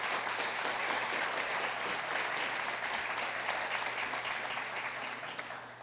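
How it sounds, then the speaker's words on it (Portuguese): Steady applause from a large crowd, dense and sustained throughout, fading slightly toward the end. "uma salva de palmas a todos os órgãos que estão aqui"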